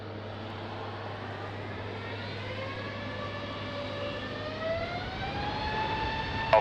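An airliner rolls for takeoff on runway 20 at Lisbon Airport in rain and wind, jet engines spooling up into a steady rising whine and roar that builds in loudness over several seconds.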